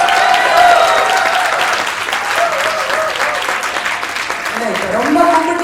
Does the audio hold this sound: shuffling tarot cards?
no